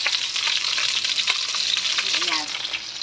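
Food fries briskly in a pan for a quick home-cooked meal, a loud, steady sizzle and crackle with light stirring and no voices.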